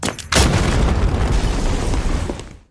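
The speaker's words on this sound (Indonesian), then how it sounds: "Nervin pun tewas setelah terkena ledakan tersebut." A loud, close explosion from a war film set in a Vietnamese jungle bursts suddenly, then a dense roaring rumble lingers for about two seconds before cutting off.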